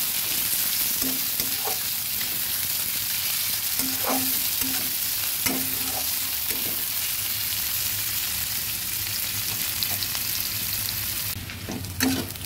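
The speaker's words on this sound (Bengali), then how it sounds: "পেঁয়াজ আর রসুনটাকে ভাজা হতে দিচ্ছি।" Onion and crushed garlic frying in a pan, a steady soft sizzle throughout with occasional light clinks of stirring.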